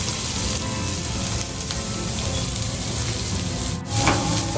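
Onion added to capsicum and chilli frying in a pan for veg Manchurian gravy: a constant, close sizzle with soft rustling and scraping, and a brief louder burst near the end.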